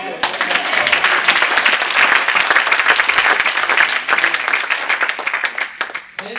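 A church congregation claps and cheers in loud, sustained applause that fills the space, with voices mixed into the dense clatter of hands before it thins slightly at the end.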